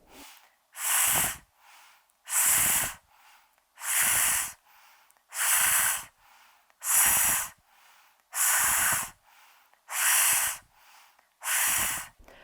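A person doing a breathing exercise exhales in long hissing S sounds, about eight evenly spaced bursts with quiet inhales between. The hiss is made by a voice imitating a sustained S.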